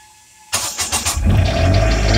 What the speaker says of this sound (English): So you hold start continuously to start the generator.